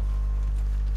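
Horse hooves clip-clop in Grand Theft Auto, a steady close rhythm over a constant low engine-like drone.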